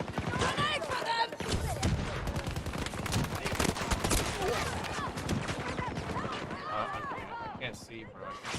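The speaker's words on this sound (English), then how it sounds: "I'm trying to look for the guy shooting at me" Rapid gunfire bursts from a Battlefield 2042 firefight crack and rattle continuously and loudly, mixed with explosions and game effects while players talk over the chaos.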